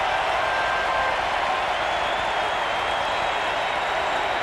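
Ballpark crowd applauding Kirby Puckett at World Series Game 7, Braves at Twins, 1991: a steady, dense wash of distant clapping and crowd roar holding at an even level throughout.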